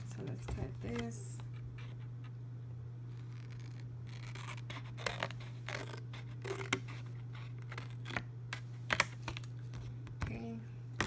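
Precision scissors snip through a laminated divider in a series of sharp, irregular cuts over a steady low electrical hum, close and fairly quiet.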